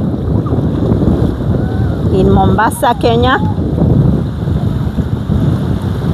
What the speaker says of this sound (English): Listen to the sound of many, many waters.